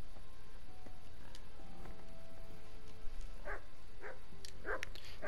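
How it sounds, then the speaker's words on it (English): Dogs barking and yipping in the medieval video game Kingdom Come: Deliverance, several short barks in the middle distance against a steady ambient background. "Dogs"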